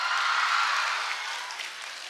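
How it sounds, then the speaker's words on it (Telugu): An audience at a film song launch event applauds in a dense, steady wash of clapping, fading slightly toward the end. "మాధవీలత గారు కూడా క్లాప్స్ కొడుతున్నారు"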